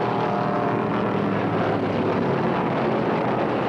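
Hemi-engined Dodge Charger stock cars race at the 1972 Motor State 400, making a dense, continuous engine roar with wind-like noise that stays steady and loud throughout.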